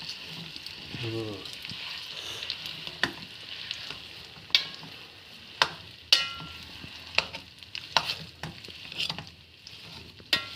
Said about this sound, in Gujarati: આ ફ્રાય કર્યું હતું ને એ જ ઘીની ઘીની અંદર નાખી દેવાનું થોડીક વાર એને શેકવાનું